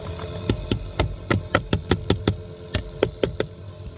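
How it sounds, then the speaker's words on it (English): A noisy blower motor in a Pontiac Torrent or Chevy Equinox gives off a fast, regular series of sharp knocking clicks, about four per second, close and fairly loud over a low hum. "let's find out why it's making a noise"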